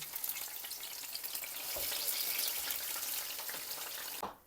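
Onion and minced meat stew in a pan with a steady, bright sizzle that stays even throughout before cutting off abruptly near the end.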